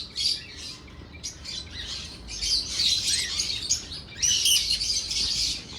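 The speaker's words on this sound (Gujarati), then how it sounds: "અલગ અલગ જાતના પોપટો દેખાય છે અત્યારે તો" Various parrots and lovebirds in a zoo aviary squawk and chirp in repeated shrill bursts, fairly close and overlapping, with no talking.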